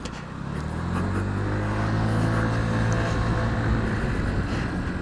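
A 2014 Honda PCX 125 scooter hums steadily while being ridden, its small engine droning close and constant with wind noise over it, and no talk.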